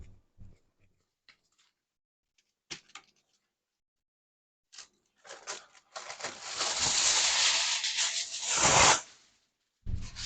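Aluminum foil crinkles and rustles loudly for several seconds as it is pressed over a dish of stuffed peppers, after a few scattered soft taps and clicks and before a final short knock.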